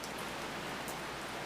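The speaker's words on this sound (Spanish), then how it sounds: "¿Por qué tenía que llover justo en este momento?" A sudden downpour of rain hisses in a dense, steady wash of droplets, fairly faint and even throughout the short stretch, with no voices.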